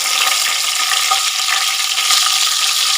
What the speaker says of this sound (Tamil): கொஞ்சம் சோம்பு பொரியட்டும்.